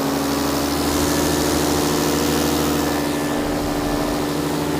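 A paramotor engine runs steadily and loudly, droning at constant power without pause as it powers up again after a landing approach.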